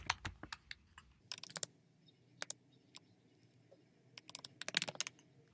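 Soft, irregular keystrokes from a computer keyboard come in short bursts of clicking and tapping between brief pauses, close and fairly quiet, with no speech.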